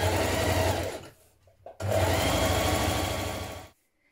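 Sewing machine running a side seam on a loungewear garment, a steady loud whirring burst, a brief pause with a couple of soft clicks, then a second sustained run of stitching that stops abruptly.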